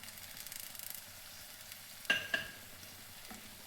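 Tinda (ghemse) pieces and soaked chana dal are stirred into hot masala for a Saoji-style curry. A soft, steady sizzle sits low and close, broken around the middle by two sharp stirring scrapes, then the sizzle settles back to a quiet simmer.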